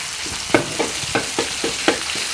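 Shallots, garlic and curry paste frying in hot oil, a close continuous sizzle broken by about six rhythmic stirring scrapes spaced roughly a third of a second apart.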